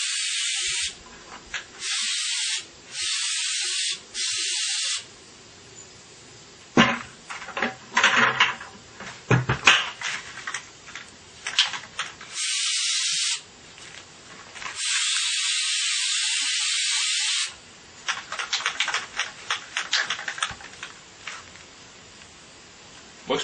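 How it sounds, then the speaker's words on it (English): Repeated hissing bursts from a Flex Seal aerosol sealant spray can, some long and steady, others short, separated by quiet pauses and faint handling noises. "I'm going to go ahead and spray a second coat on here"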